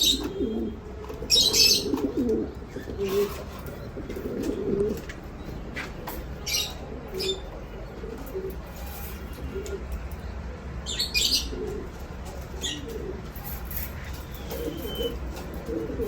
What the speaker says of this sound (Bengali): একজোড়া রেড লাহরি কবুতর আছে